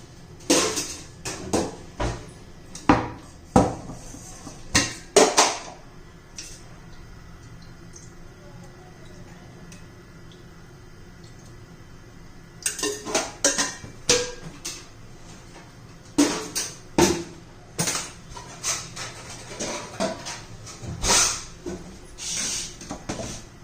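A wok clanks and clatters on the stove in bursts of sharp knocks, with a quieter pause in the middle before the rattling resumes.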